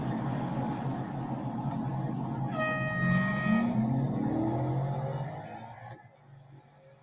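Racing car engines from the video game Real Racing 3, a continuous engine drone with a brief rising whine partway through, then fading into near silence at the end.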